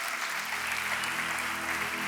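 Steady applause from a church audience, a dense wash of clapping that holds evenly throughout.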